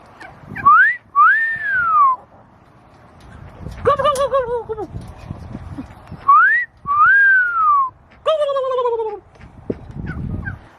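Several bursts of human whistling, rising and falling swoops alternating with warbling gobble-like calls, separated by short pauses and faint background sound.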